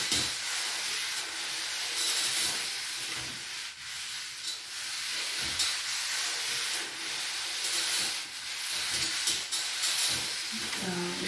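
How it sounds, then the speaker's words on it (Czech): A close, continuous hiss of steam plays over a deformed felt Cordoba hat, pulsing slightly as the jet moves across it, loud and steady with brief quiet voices. "dám si tam trošičku páry, tady na tuhle tu zdeformovanou část"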